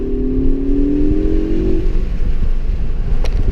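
Turbocharged car accelerating hard, its engine tone climbing loud and close for a couple of seconds, then fading into a steady rushing road and wind noise, with no talking.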